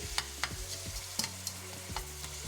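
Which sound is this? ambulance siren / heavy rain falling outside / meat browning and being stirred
meat browning and being stirred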